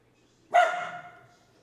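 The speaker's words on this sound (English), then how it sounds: "every 20 minutes, a dog wellness check" A dog in a home 3D-printing workspace gives one sharp, loud bark that trails off over about a second, close by and alone against quiet.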